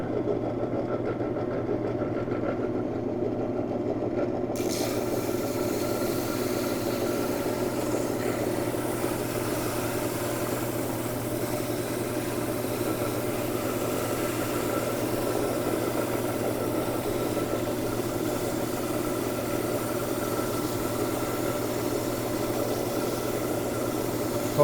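Lapidary grinder running at 100 grit on a thin slab of fossilized coral, a steady mechanical hum and whir with a constant grinding hiss, unbroken for the whole stretch.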